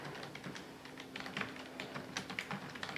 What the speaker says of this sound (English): I'm going to set this down and type on it, and you'll just see that you can type really fast.